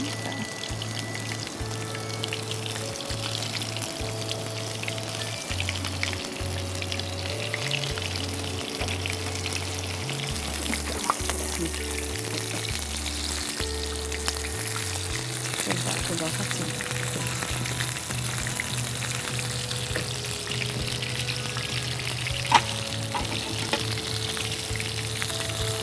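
Breaded prawns fry in hot oil with a steady, bright sizzle and crackle that runs throughout, beneath a sustained backing melody.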